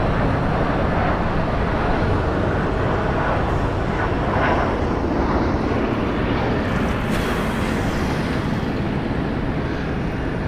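Airliners roaring at Phoenix Sky Harbor Airport, a loud, continuous broadband engine rumble that holds steady throughout, close and dominant with no voices over it.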